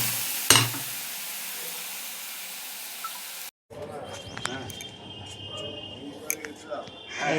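Dal lentils dropped into a hot pan, a sudden sharp sizzle that settles into soft, continuous frying with light stirring scrapes, fairly quiet throughout.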